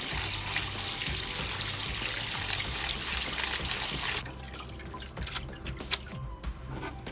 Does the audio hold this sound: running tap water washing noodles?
yes